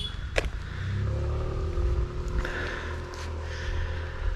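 Cars and motor vehicles speed past on a winding mountain road near Nainital, a steady engine rumble with passing whooshes and a couple of brief scrapes, moderately loud throughout.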